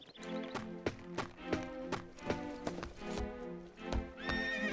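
Cartoon horses and foals with rhythmic clip-clopping hooves and repeated whinnies and neighs, fairly close and clear, set against a melodic musical background.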